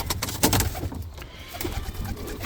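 Roller pigeons coo in a loft, soft throaty calls mixed with wing flutters and scuffling, close and fairly loud throughout.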